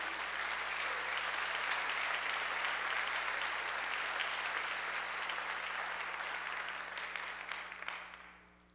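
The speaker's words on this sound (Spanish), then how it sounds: "Dale un fuerte aplauso a Jesús." Congregation in a church service applauding, a dense steady clapping that stays even and fairly quiet before tapering off near the end, with a low hum underneath.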